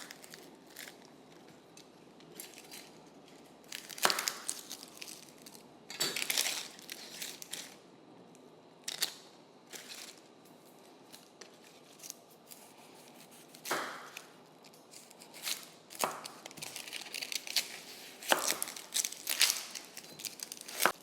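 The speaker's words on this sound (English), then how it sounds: "I just wanna cut a little bit of the root off so that we don't have any dirt or anything, and then I'm gonna peel it" A root vegetable is trimmed at the root end with a knife and then peeled during a canning session, giving scattered sharp cutting clicks and scraping bursts at close range, with no talk.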